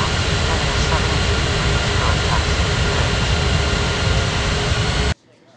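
An Etihad airliner on approach to land in an air traffic control video game makes a loud, steady engine roar that holds evenly and then cuts off abruptly near the end.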